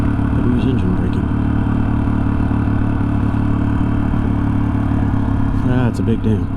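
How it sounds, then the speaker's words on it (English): Steady, loud engine rumble from a vehicle slowing by engine braking on a road near a dam, close by and continuous, with a brief voice near the end. "But who's engine braking?"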